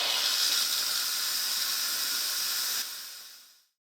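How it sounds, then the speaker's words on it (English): An Instant Pot vents steam in a quick release after cooking cheeseburger macaroni, a loud steady close hiss that holds for about three seconds, then drops and tapers off to silence. "so now I'm just going to do a quick release."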